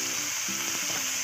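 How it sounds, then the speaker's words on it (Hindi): Chicken and cumin frying in oil for chow mein, a loud, steady close sizzle with faint stirring scrapes, no voices. "आप कप ऑयल में चिकन को भून लेंगे"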